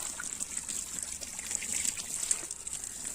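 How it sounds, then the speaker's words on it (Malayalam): Water trickles gently onto soil where winged bean seeds have just been sown, a soft, steady, faint hiss of light watering with no talk. "ചെറുതായിട്ട് നമുക്ക് നനച്ചു കൊടുക്കാം കേട്ടോ"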